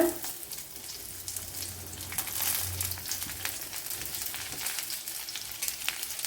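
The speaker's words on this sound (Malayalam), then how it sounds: "ഇതിലേക്ക് ഇനി വലിയൊരു സവാള ഇട്ട് കൊടുക്കുക" A large onion drops into hot oil and sizzles steadily, a broad hiss of frying with faint stirring, close and continuous throughout.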